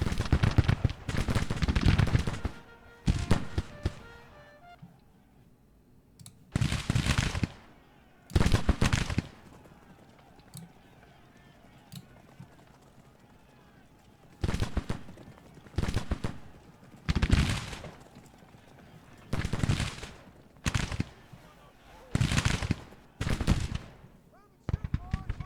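Volleys of Civil War muzzle-loader rifle fire in Grand Tactician: The Civil War, heard as ragged bursts of massed musketry crackling in clusters, separated by quieter gaps of distant battle ambience.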